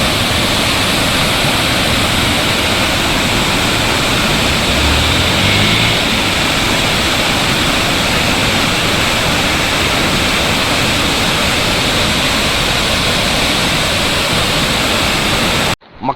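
Rain-swollen waterfall on the road to Valparai in Tamil Nadu, a loud, continuous roar of crashing water that stays steady and close for the whole stretch before cutting off abruptly at the end.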